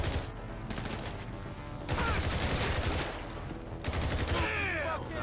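Gunfire in Grand Theft Auto V: dense bursts of rapid shots crackle loudly in three waves, close and overlapping, with brief lulls between volleys.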